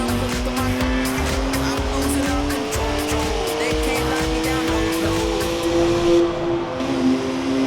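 In Forza Horizon 4, a car with a twin-turbo 3-litre straight-six making 335 horsepower drifts sideways, its engine droning in rising and falling pitch while tires squeal in repeated bursts, close and continuous.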